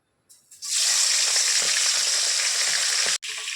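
Salted, turmeric-coated prawns dropped into a hot pan of mustard oil, a sudden loud, steady crackling sizzle after a brief quiet start, with a short break near the end, no talk.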